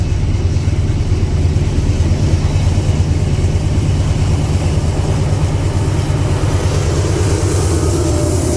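A CSX C700 freight train heading south in Kentucky rumbles past, loud and close, as a steady low engine drone with continuous rolling noise and no talk.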